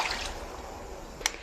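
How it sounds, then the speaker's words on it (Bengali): Water poured into a pot of chicken biryani, a continuous rushing, splashing wash of liquid throughout, ending with a brief sharper splash. "এখন আমি পানি দিয়ে দিছি।"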